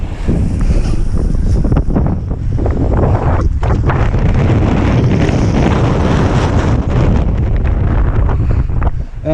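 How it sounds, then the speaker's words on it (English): Strong wind roars and buffets loudly and continuously on the water off Maui, with heavy gusty rumbling throughout. "Definitely windy here."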